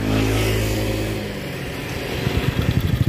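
A motorcycle engine revs loudly nearby, then settles into a rougher, pulsing putter toward the end, with no talking.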